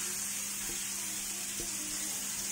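Chicken breast pieces fry in melted butter over a medium flame, giving a steady, close hiss of sizzling with a couple of soft clicks, no voices.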